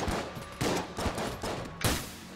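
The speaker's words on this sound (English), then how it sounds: "It just took like seven shotgun shots" Repeated shotgun blasts from the video game Enter the Gungeon, about five sharp bursts in quick uneven rhythm, close and loud, each with a short noisy tail.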